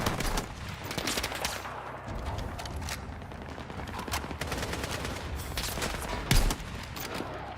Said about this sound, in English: How they shoot me with a minigun?